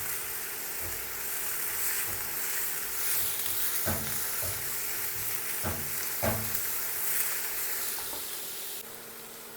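Green chili, ginger garlic paste and salt sautéing in a pan for chicken biryani, a steady close sizzle with a few louder stirring scrapes and bursts, no talk.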